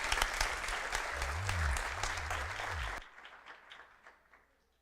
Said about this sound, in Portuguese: vamos receber o nosso grupo de teatro aplaudindo também bem forte ao Senhor Jesus